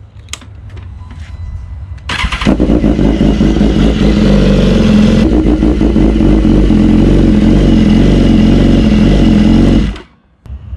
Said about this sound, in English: What I'll do is I'll start the bike up.